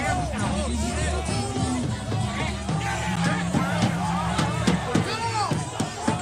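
A large protest crowd in Minneapolis fills the air with continuous, dense babble, shouts and overlapping voices, steady and fairly close throughout, with people talking over the din.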